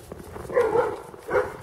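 A farm dog outdoors in minus-fifteen frost gives two short, moderately loud barks about a second apart over faint background noise.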